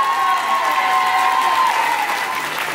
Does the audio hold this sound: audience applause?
yes